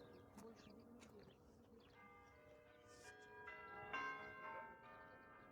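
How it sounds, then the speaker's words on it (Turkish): Church bells in St. Petersburg ring out repeatedly with overlapping, resonant tolls, their strikes growing fuller as they go on, with faint voices in the background. "Çanlar çalmaya başladı."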